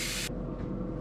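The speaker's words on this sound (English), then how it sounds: "Just regular black in the airbrush." Brief hiss of an airbrush spraying black paint onto a shad glide bait fishing lure, close and steady for a fraction of a second before cutting off into quiet room tone.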